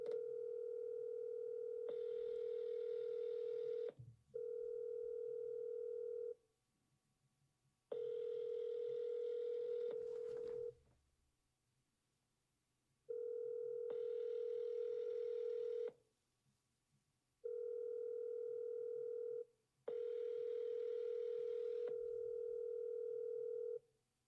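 A telephone dial tone and ringback tones sound while calls are placed, steady tonal bursts a few seconds long separated by short silences and clicks, repeating across the stretch with no talk.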